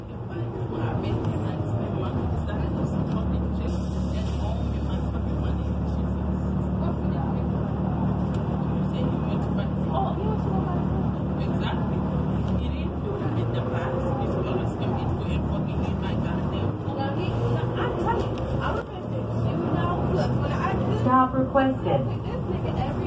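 Inside a 2018 Gillig Low Floor BRT 40ft bus on Brockton Area Transit Route 4A, a steady low engine drone and rolling road rumble with rattles, under intermittent announcements and talk.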